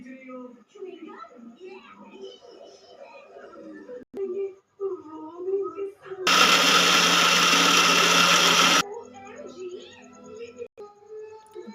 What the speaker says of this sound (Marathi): हे बघा आता त्याला मिक्सरला लावणार आहे।